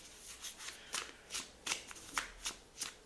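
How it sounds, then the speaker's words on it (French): Tarot cards shuffled and drawn: a series of crisp riffling flicks and card slaps in a loose rhythm, close and moderately loud, with no talk over them. "Je vais prendre 2 cartes de plus"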